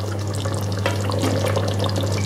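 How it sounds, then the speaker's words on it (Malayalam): Kerala chicken potato stew gravy begins to boil in a pot, with a steady close bubbling simmer and soft crackling over a low hum. "തിളയ്ക്കാൻ തുടങ്ങിയിട്ടുണ്ട്"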